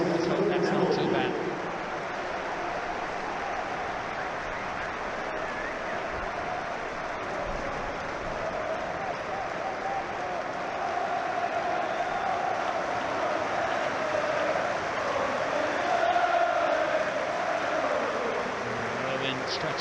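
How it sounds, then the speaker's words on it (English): A stadium crowd at a Premier League football match applauds a substituted player leaving the pitch, a sustained, broad roar of clapping filling the ground, with a commentator's voice speaking over it. "to tremendous and sincere applause"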